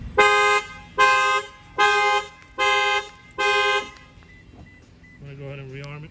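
A car alarm with a shock sensor, set off by a knock on the window, blares in five loud, evenly spaced horn blasts, then falls quiet before a shorter electronic chirp at the end.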